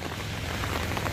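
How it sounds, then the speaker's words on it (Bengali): Heavy rain falls steadily during a rainy spell, a dense, even hiss of drops that stays constant through a brief moment, with no voices. "ভালোই জোরে বৃষ্টি পড়ছে এবার।"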